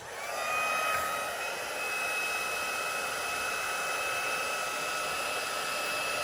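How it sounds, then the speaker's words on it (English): A heat gun blows steadily to dry alcohol ink, a loud, continuous whooshing hiss with a faint high whine running throughout, close and unbroken. "When you use the heat gun, it will usually curl the edges."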